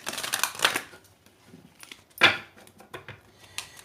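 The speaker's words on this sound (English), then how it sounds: "I'm going to shuffle again and cut the deck." Tarot cards being shuffled and cut by hand, heard as a few crisp, papery riffles and taps in bursts separated by quiet gaps, close and fairly soft with no voices.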